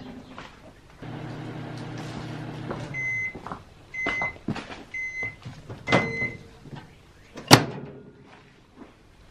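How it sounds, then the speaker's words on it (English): A microwave oven hums steadily while heating wood, then beeps several times; a door clunks open and shut with a sharp slam near the end, all close by. "Let's microwave this."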